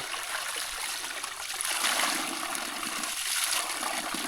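Cool, clear stream water in a Laos mountain valley pours steadily into a container, a continuous near rush and trickle with no talk.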